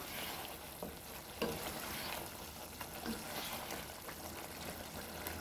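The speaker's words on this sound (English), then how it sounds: "you can turn down your stove and allow your liver to just simmer." Liver and onion simmer and sizzle in a pan on the stove for a Jamaican breakfast, giving a faint, continuous crackling hiss with scattered soft pops and bubbling. No voices are heard.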